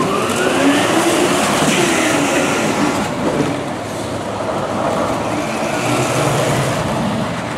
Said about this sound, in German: Und in die Kurve und jetzt nochmal Vollgas.